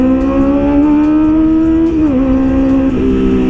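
A Kawasaki ZX25R motorcycle engine revs loud and close, holding a high, even scream that dips twice and then climbs again, with no talking.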